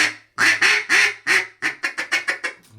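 A Freelance duck hunting call made by the Brotherhood is blown in a loud series of raspy quacks, a few long drawn notes followed by a quicker run of shorter, descending quacks, with no one talking.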